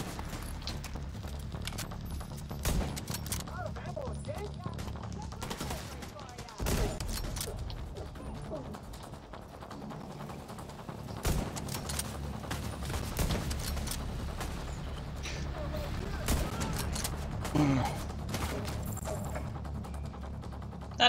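Video game gunfire, rapid bursts and scattered shots at moderate level running steadily under voices and game noise throughout.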